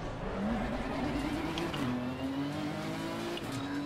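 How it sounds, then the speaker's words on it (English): A GT race car engine in a racing sim drones and revs steadily while climbing in pitch, moderately quiet and continuous, with faint tire noise and no voices. "Still more game volume, more engine sounds?"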